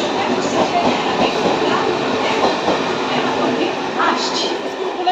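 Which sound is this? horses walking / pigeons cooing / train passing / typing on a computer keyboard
train passing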